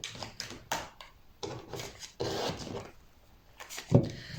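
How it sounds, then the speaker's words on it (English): A deck of cards is shuffled close by in quick soft riffling and rubbing bursts, several separate passes with short pauses between, quiet and with no talking. "I need to shuffle."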